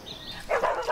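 A dog barks indoors, a short pair of sharp yaps that are fairly close and moderately loud after a faint whine.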